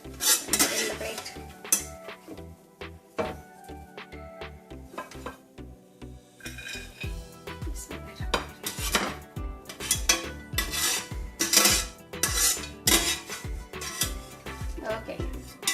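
Fried nuts clatter as a spoon scrapes them from a pan onto a plate while making gajar ka halwa. Repeated metallic clinks and scrapes come through close and fairly loud in an irregular rhythm, with no one talking.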